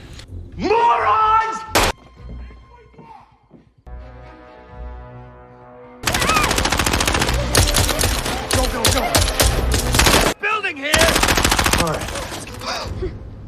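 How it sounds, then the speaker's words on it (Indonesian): Bursts of rapid film gunfire crack and rattle loudly, broken by short quieter gaps with a faint musical tone, close and intense. "Saat mencoba kabur, Fitzroy terkena tembakan"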